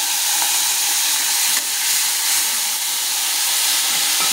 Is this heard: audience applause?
no